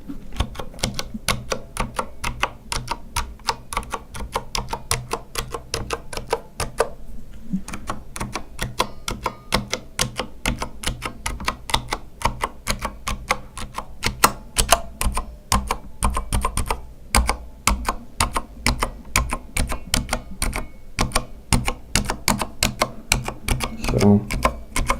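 Fast, steady keystrokes clatter on a Corsair Strafe mechanical keyboard with Cherry switches, each press crisp and close with a faint springy ring. A short pause breaks the rapid rhythm partway through.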